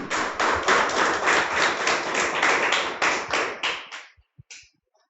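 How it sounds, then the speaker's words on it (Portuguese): A church congregation at a Portuguese-language worship service bursts into loud, dense applause that keeps up for a few seconds, then thins out and trails off into a handful of scattered final claps. "Aplauda Ele!"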